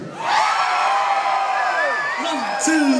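A tribute concert crowd screaming and cheering, a loud, sustained wall of high shrieks and whoops with individual yells rising above it.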